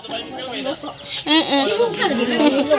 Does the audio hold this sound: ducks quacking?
yes